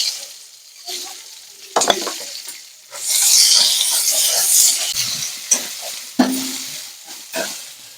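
Onion paste and ginger garlic paste hit hot oil for an egg curry, bursting into a bright hissing sizzle that swells and fades with stirring scrapes and clinks nearby, no speech.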